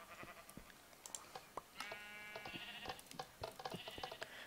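A sheep in a video game bleats amid a busy scatter of clicks and short blips, with one long wavering bleat in the middle and fainter bleat fragments after it.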